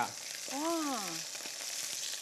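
Fish slices sizzle and spit in hot oil in a pan, a steady dense crackle running throughout, with a brief exclamation from a voice near the start.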